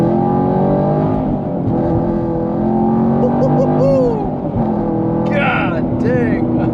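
A bone-stock Chevrolet Camaro 1LE's exhaust drones loud and close, with long rising and falling revs and a deep rumble that stays steady throughout, while people talk faintly underneath.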